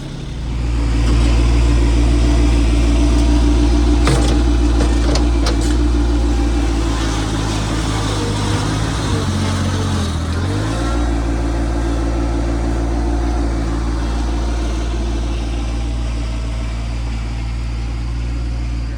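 A 4-wheel-drive tractor engine runs loud and steady while digging into a dirt pile, its low drone dipping and bogging briefly midway before settling back to a constant strain; no talk.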